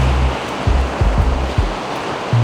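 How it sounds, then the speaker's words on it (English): A fast, steep mountain river in Colorado rushes as a loud, close, constant roar of white water, with low thumps from wind buffeting the microphone breaking in several times. "It's steep and the river's fast."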